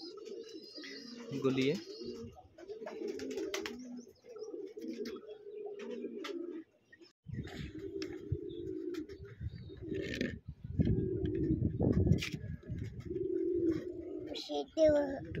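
Pigeons coo steadily in a pigeon loft at morning feeding, the murmuring calls running on under a voice talking nearby, with occasional clatter and a short pause partway through.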